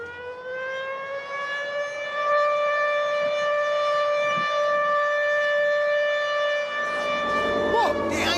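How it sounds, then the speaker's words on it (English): A loud, steady air raid siren holds a sustained wailing tone, with a brief voice near the end. "Air raid sirens were only removed from British towns 20 years ago."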